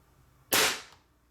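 A single sharp crack from a Gamo Swarm air rifle fired indoors, loud and close, with a short fading tail in otherwise quiet surroundings.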